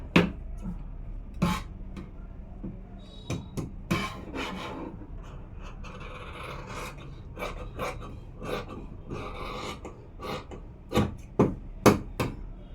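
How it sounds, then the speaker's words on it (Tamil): Blouse fabric being cut for a sleeve, with scattered scissor snips, rubbing and scraping of cloth and tools on a tabletop, irregular and close, fairly quiet, with no talking. "இப்போ வந்து கை வந்து கட்டிங் பண்ணிடுறேன்"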